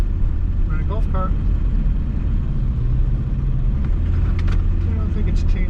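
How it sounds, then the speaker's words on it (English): A golf cart rides along on Ocracoke Island, North Carolina, with a constant loud rumble of motor and wheels throughout and some faint voices underneath. "We're in a golf cart."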